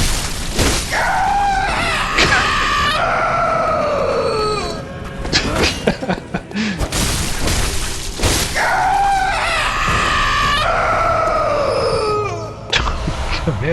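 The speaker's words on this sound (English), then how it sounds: "Man, that scream!" Shrill, wavering screams from witches in the Bloodborne video game, two long anguished wails separated by crashing, thudding impacts, loud and close.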